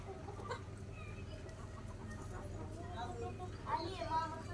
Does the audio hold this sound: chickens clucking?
yes